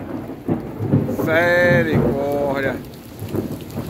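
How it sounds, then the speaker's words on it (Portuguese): A heavy rainstorm with frequent lightning in Paramirim, Bahia: steady loud rain hiss with thunder rumbling underneath, while a nearby voice gives a drawn-out exclamation in the middle. "não para de relampear e trovejar na hora"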